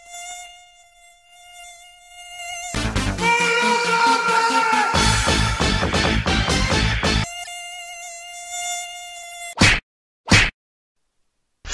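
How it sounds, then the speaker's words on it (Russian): Mosquito buzzes as a thin, steady, high whine, broken by a few seconds of loud noisy clatter and then two sharp whacks near the end. "Это отвратительное зззз действует на нервы."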